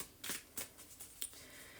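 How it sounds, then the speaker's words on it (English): A deck of tarot cards being shuffled by hand in three quick riffling bursts, followed by a lighter fourth snap, crisp and close in a quiet room with no talk. "They are not the easiest shuffle out of all the shuffles, but they are still one of my favorite decks."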